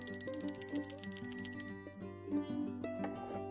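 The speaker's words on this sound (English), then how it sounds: "sometimes I use a bell." A small hand bell is rung repeatedly to cleanse a working area, bright ringing strikes in quick succession that overlap and then fade into lingering resonant tones, close and clear with no speech.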